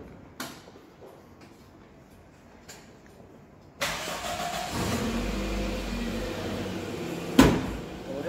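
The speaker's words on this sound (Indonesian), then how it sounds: "Sebelumnya kita hidupkan dulu kendaraannya." A Toyota Corona has a few faint clicks and a short cranking burst, then the engine catches and settles into a steady idle hum. A sharp clunk comes near the end.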